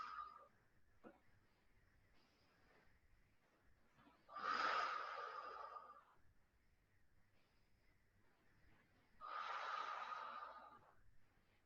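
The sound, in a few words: gentle deep breathing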